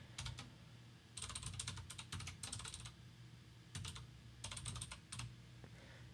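Quiet bursts of typing on a computer keyboard, with rapid clusters of key clicks separated by short pauses, fairly close but soft.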